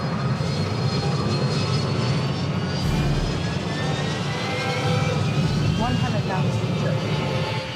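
An easyJet jet airliner taking off, a loud, continuous engine roar held steady throughout, with voices talking over it.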